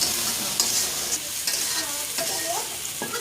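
Dried fish (shutki) fries in a pan with a loud, continuous sizzle, broken by the scrape and clack of a spatula stirring it at irregular intervals.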